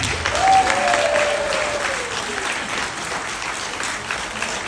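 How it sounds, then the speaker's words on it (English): Wedding guests at a reception applaud during a best man speech, a full, steady roll of clapping from a crowded room, with a brief vocal sound near the start riding over it. "Please give them a round of applause."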